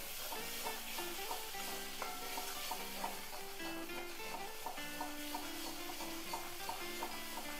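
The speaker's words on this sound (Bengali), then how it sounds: "এখন আমি মশলাটাকে ভালো করে কষিয়ে নেব।" Spice masala for a Bengali cauliflower and egg curry, seasoned with salt and turmeric, sizzles steadily in a pan while being stirred, a continuous close frying hiss with faint scraping touches throughout.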